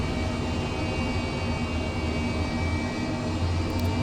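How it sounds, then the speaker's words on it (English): An H135 helicopter engine spools up in Microsoft Flight Simulator 2020, a steady, dense whine and roar with a constant tonal hum, loud and unbroken, with no talk over it. "And looking at the engine gauges, it's starting up nicely."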